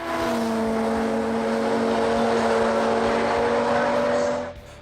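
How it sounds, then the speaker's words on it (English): Street Compact drag racing cars in a finals run at a Sydney event, a loud, steady high-revving engine drone with strong sustained tones that holds for several seconds, then cuts off abruptly. "After some fierce eliminations, it was finals time, starting with the MTQ Engine Systems Street Compact, which was between Martin Whelan and Joseph"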